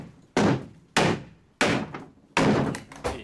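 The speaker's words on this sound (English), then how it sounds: "try and knock these off." Four heavy thunks as a bolt on an old wooden canoe is hammered loose, evenly spaced blows that each ring briefly through the hull, close and loud with no voices.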